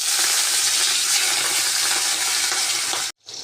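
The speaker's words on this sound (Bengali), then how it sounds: "রুই মাছটাকে লবণ হলুদ দিয়ে মেখে রেখেছি," Pieces of rohu fish rubbed with salt and turmeric fry in hot oil, giving a loud, dense, continuous sizzle that cuts off abruptly near the end before resuming briefly.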